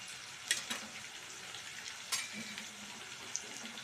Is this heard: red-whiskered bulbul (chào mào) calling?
no